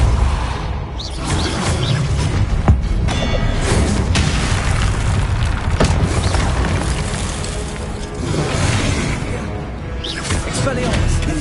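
Spell-blast booms and crashes from a Harry Potter video game, with Confringo explosions rolling continuously under loud, energetic casting voices over a dense, busy battle mix.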